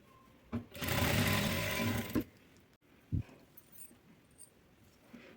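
A sewing machine runs in one steady burst of close, loud stitching along a folded dress side slit, then stops, leaving quiet room tone with a faint thump.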